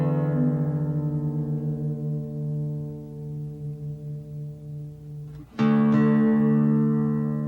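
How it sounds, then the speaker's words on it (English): Open fourth and sixth guitar strings ring out for tuning: one low note sustains and slowly fades, then a second string is plucked loudly and rings steady, with audible beating between the tones. "I will play the fourth string first"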